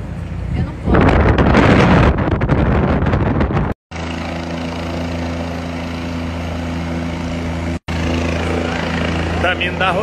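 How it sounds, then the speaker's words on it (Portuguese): A helicopter flight over New York: loud rotor and engine roar with heavy wind buffeting on the microphone, a steady low drone and rushing noise, briefly cut by two short gaps, with voices partly buried underneath. "Caminho da rolê de helicóptero"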